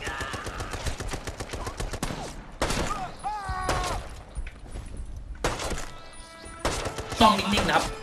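Gunfire in the war shooter game Brothers in Arms 3, rapid automatic bursts broken up by pauses, mixed with clanks and game effects, with someone talking at times.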